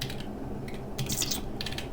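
Typing on a computer keyboard while using a terminal app, a steady patter of soft key clicks with a denser burst of quicker strikes midway, close and moderately quiet.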